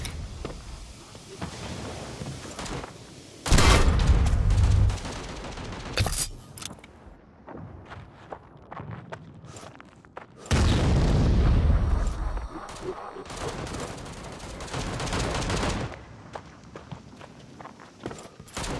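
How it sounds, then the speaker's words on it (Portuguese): Grenade blasts and gunfire ring out in the World War Heroes video game, with two heavy booming bursts among scattered shots and footstep-like clatter, fairly loud and close. "Olha a granada!"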